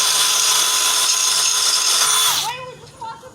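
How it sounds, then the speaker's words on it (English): An Ace Tek blade sharpener grinds a lawnmower blade with a loud, steady high-pitched whine that cuts off abruptly near the end and winds down. "just that easily and fast, it's already sharpened the blade"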